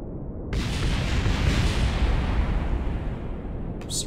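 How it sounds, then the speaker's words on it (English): A loud, rumbling explosion roars up suddenly and sustains as a broad blast of noise in Kerbal Space Program, fading slightly before a brief bright chime at the end. "Surprised I heard the explosions in space."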